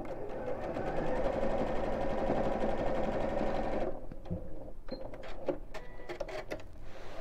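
A sewing machine stitches felt for an Easter egg decoration, running in a steady loud whirr for about four seconds, then stopping and giving way to scattered clicks and handling taps.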